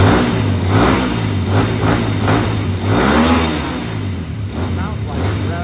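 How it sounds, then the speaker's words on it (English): Rusi Kry 200 motorcycle engine revving close by with steady mid-pitched harmonics rising and falling, while someone talks over it throughout. "Sounds like the rev's a lot higher"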